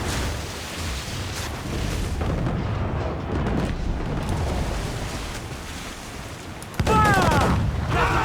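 Ship cannons booming in Assassin's Creed IV: Black Flag over a continuous bed of ocean surf and wind, with a sharper loud blast near the end and voices shouting faintly in the mix.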